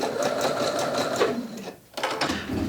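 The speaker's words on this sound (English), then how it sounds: "So I'm just going to stitch around the circle." A sewing machine runs steadily, stitching around a fabric circle for a decorative pattern weight, with a brief pause before the motor whirs on again, close and continuous.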